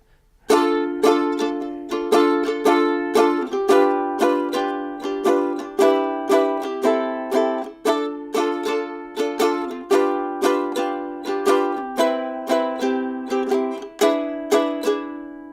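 A ukulele strums a series of chords, each one struck firmly and left to ring briefly, in an even rhythm moving through a progression.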